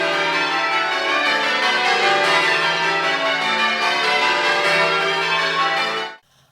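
Church bells peal in method ringing in Devon, a dense, continuous cascade of overlapping tolls, loud and sustained without voices, ending in a sudden cutoff.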